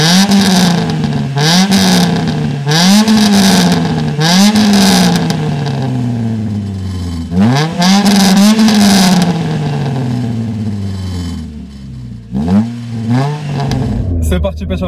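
A Renault Clio 3 RS turbo engine accelerates hard in third gear, loud and close. Revs climb in repeated rising sweeps, each dropping off with a brief gap before surging again.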